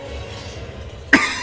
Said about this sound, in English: that's me coughing, if you want to know